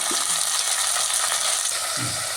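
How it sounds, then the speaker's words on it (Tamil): Onion and tomato sauté in a pan for a chapathi side dish, a continuous close sizzle with a brief stirring scrape near the end and no talking. "தக்காளி, அதையும் சேர்த்து நல்லா வதக்கிடலாம்"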